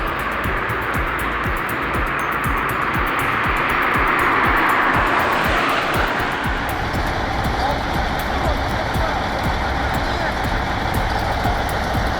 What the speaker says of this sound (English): The MAN truck is powerful, but 120 tons is just too much.